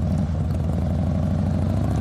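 A motorcycle rides along a smooth, easy road in Khotang, Nepal, its engine a steady, continuous low drone with rumble and rattle, close and constant throughout with no speech.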